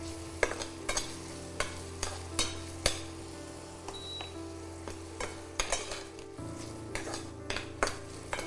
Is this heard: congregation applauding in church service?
no